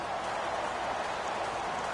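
Rain falls steadily during a football game between the Oilers and Seahawks at CenturyLink Field in Seattle, an even, continuous hiss with no voices over it.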